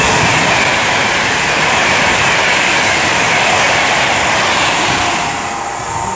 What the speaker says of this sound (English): our next train to pass by is going to be another Avanti West Coast Class 390 Pendolino